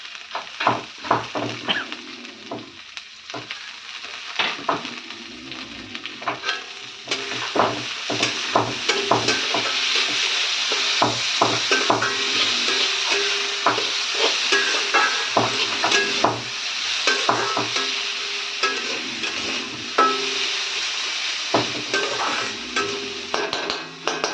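Moong dal and drumstick leaves frying in a pan, a continuous loud sizzle broken by frequent scraping and clinking strokes of a spoon stirring, close up and with no voices.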